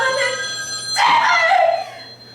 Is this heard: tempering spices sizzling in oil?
no